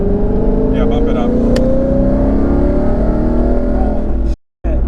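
A 1000HP twin-turbo Mustang GT at full throttle, its engine note climbing steadily through the gear under a loud, continuous drone of intake and exhaust, then cutting off abruptly near the end.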